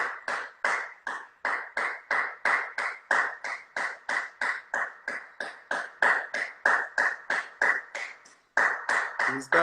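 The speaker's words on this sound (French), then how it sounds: "J'espère que tous les Français ils sont en train d'applaudir en ce moment." Sustained outdoor applause at 8 pm, a crowd of hands clapping briskly and evenly, loud and continuous with a short break near the end, with no talking.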